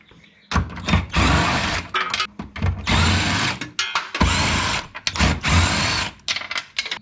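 A power tool drives 14mm bolts on the engine mount of an Acura TL in repeated bursts of impact-style buzzing, several roughly one-second runs separated by short pauses, close and loud.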